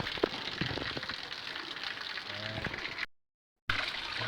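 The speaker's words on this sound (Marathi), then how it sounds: "काय पाऊस पडाय माझं" Soft, continuous patter of rain falling nearby, broken by a brief moment of silence before the rain resumes.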